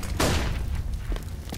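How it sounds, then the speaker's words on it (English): A flashbang grenade goes off in a video game shootout, one sharp loud bang followed by a brief ringing decay, with scattered thumps after it. "Throwing fire. Throwing flashbang."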